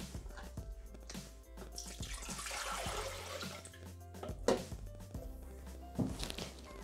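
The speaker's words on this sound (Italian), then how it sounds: "Iniziamo la ricetta mettendo all'interno del boccale l'acqua." Water pours steadily into a Thermomix TM5 or TM31 mixing bowl, a continuous close splashing fill with a few knocks and drips in a quiet kitchen.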